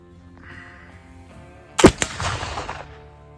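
A black powder gun fires a single loud, sharp shot over a chronograph, with a short echoing tail, after a quiet lead-in.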